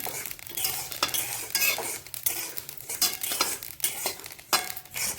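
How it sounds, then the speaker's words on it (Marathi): Stone flower (dagad phool) spice dry-roasting in a metal pan for homemade red chutney powder, with steady scraping and stirring clatter, light rustling, and faint crackle, close and continuous without talk. "हे दगडी फूल सुद्धा भाजून घ्यायचं आहे"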